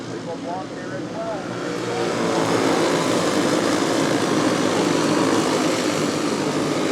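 Race cars roar around a track at a dirt-track style race, a dense, continuous engine drone that swells louder after the opening seconds and holds steady while an announcer talks over it.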